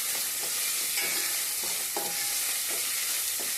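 Steady, loud frying hiss as tomato and coriander cook into a capsicum curry, with periodic spoon stirring strokes through the sizzle and no talking.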